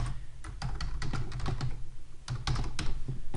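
Rapid, uneven keystrokes on a computer keyboard while entering a spreadsheet sheet name, close and clear with short pauses between bursts of typing.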